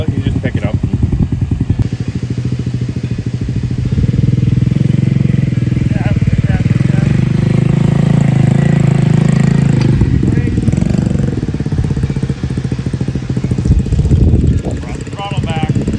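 A small mini bike engine runs loud and close as a child takes a first ride, its buzzing drone swelling as the throttle rises and easing back near the end, with a voice talking over it.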